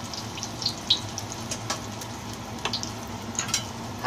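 Ginger sizzling in hot oil in a pan for fish mullet soup, a steady close frying hiss with small crackles and pops, no talking.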